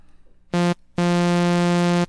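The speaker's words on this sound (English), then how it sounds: "just got a little keyboard here" Two bright, buzzy synth keyboard notes at the same pitch, a short one followed by a longer sustained one, clean and close.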